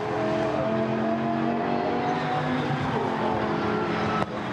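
Lamborghini Super Trofeo race cars brake hard into Stowe corner at Silverstone and turn into the right-hander, a loud, steady engine roar with shifting pitch that continues throughout and ends in a brief sharp click.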